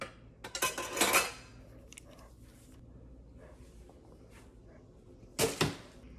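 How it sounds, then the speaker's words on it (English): Dishes being washed in a home kitchen after lunch, with two loud bursts of clattering cutlery and plates near the start and near the end and a quiet running-water background between them. "More dishes"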